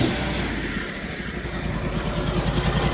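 A small engine, on equipment under repair, is given throttle and revs steadily while its clutch spins, a close, continuous throbbing drone with a light pulsing rhythm for about three seconds and no talk.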